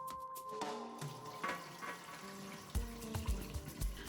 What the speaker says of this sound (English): I'm washing it about 3 or 4 times, just until the water runs mostly clear